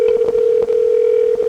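A continuous steady phone tone sounds over the line, loud and unbroken, with faint background speech-like murmurs beneath it.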